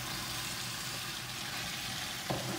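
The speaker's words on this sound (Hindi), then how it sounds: "अब इसमें हम ये अनियन डालेंगे जो हमने स्क्वायर पीसेस में काटे हुए हैं।" Square-cut onion pieces sautéing in a pan with a little oil, a steady low sizzle and hiss throughout, with a faint clink near the end.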